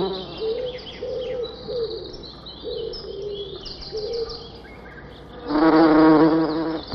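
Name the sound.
bees visiting foxglove flowers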